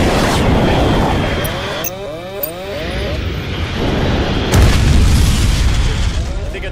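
Rockets explode in an action movie scene: heavy booming blasts with a roaring rumble, fading into a whooshing sweep and another loud burst, dense and loud throughout.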